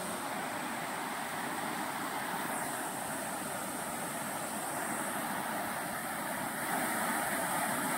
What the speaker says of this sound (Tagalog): Medyo malakas-lakas na yung tubig.